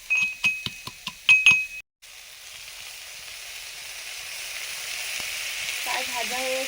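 Crushed bori lentil dumplings frying in a pan: a few sharp clinks and stirring taps at the start, then a steady close sizzle that continues on its own.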